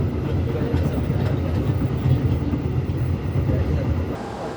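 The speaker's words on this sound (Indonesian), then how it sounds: "Kereta api Kahuripan sekarang tiba di Stasiun Kertosono" The Kahuripan passenger train rolls into Kertosono station with a steady, loud, low rumble of wheels and carriages, continuous throughout, with faint background voices mixed in.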